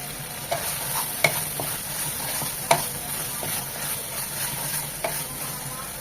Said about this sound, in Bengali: মশলাটা খুব ভালোভাবে কষিয়ে নিতে হবে।